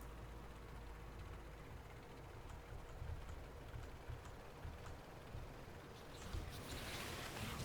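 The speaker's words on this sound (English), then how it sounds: "I have 6 oil trains. All going." A steady low rumble of rolling oil trains in the video game Factorio, with faint clanks and hiss on top, continuous throughout, no voices present.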